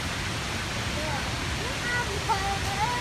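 Haew Suwat waterfall sends up a steady, moderately loud rush of falling water, with a few faint, thin chirps rising above the constant roar.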